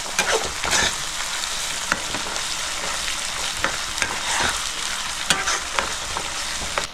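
Ginger, garlic and green chili paste masala fries in hot oil in a pan for a Bengali pangas fish curry, giving a steady loud sizzle with scattered stirring scrapes throughout and no voices.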